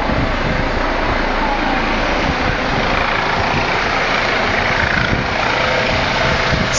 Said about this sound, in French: Ça, c'est l'hélicoptère de la police qui est en train de chercher à voir un peu qu'est-ce qui se passe.